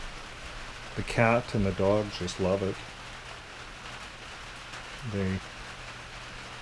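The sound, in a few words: rain falling outside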